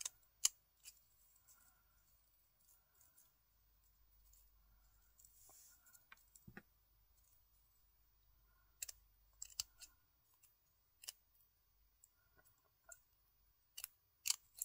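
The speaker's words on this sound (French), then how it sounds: "je vais venir découper le fil qui dépasse" Small scissors snip off a loose thread on an ATC art collage in a series of quiet, close, crisp clicks that come faster toward the end, with faint handling rustle between cuts.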